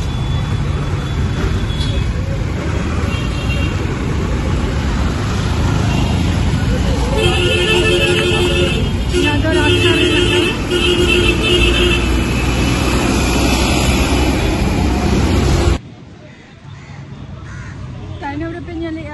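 Dense, loud road traffic roars steadily on a high road beside RG Kar hospital in Dum Dum, with engines and horns layered together, then the din drops abruptly near the end.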